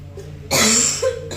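One short, sharp cough bursts out close by against a quiet background.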